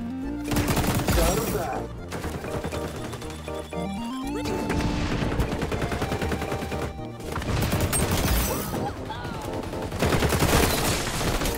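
Rapid bursts of ACR rifle gunfire crack out loudly in XDefiant, arriving in several sustained volleys that are mixed with game music and effects.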